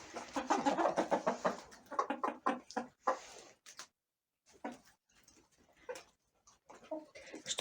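Hens clucking in a farmyard, a run of quick, close, rhythmic clucks at first, then scattered short clucks and calls separated by quiet gaps.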